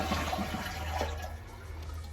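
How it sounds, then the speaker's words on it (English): A toilet flushes during a repair check, a steady rush of water swirling and draining with a low rumble throughout, fairly close and with no talking. "Then you flush the toilet,"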